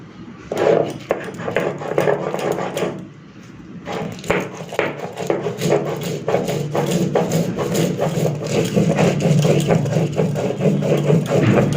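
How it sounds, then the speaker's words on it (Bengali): An electric grinder whirs as it grinds white mustard seeds with green chillies, starting in short bursts and then running in a loud, steady motorized drone up close. "চলুন এবারে বেটে নিই দুটো কাঁচা লঙ্কা দিয়ে বেটে নেবো"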